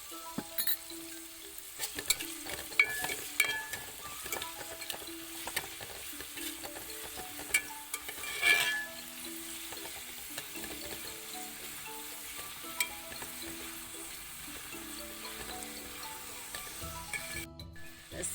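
Chopped tapioca with salt stirred by a spoon in a pan, faint low sizzling under scattered light scrapes and taps over a long stretch, with a brief louder rustle midway.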